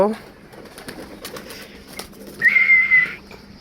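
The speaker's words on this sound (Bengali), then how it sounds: "এই যা এদের এখন খাইতে দিব কবুতরদের" Pigeons in a pigeon house give a brief, fairly clear cooing call midway through, set against low, faint background sound.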